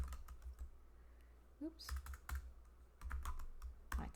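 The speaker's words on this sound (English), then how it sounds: "My terrible typing" Uneven bursts of keystrokes on a computer keyboard, close and fairly quiet, with pauses between clusters of typing and a brief spoken exclamation partway through.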